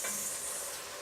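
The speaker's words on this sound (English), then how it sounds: "now we're just going to mix that all in" Tomato paste gets stirred into a hot, sizzling pot while cooking benachin, a steady bright hiss with soft scraping, fairly close and continuous for a brief moment.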